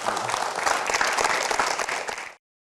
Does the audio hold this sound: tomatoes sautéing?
no